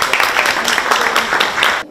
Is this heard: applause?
yes